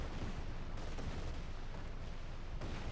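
Rocket artillery barrage in the World War II strategy game Company of Heroes 2, a dense continuous rumble of launches and impacts rolling on throughout, loud and sustained with no clear gaps.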